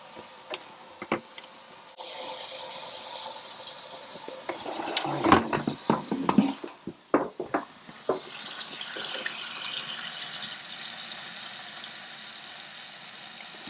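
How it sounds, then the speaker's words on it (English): Hot water runs into a container at a kitchen sink, a steady rushing flow broken by clunks and knocks of handling, then settling into a smoother, filling stream. "And then I'm going to fill it with hot water."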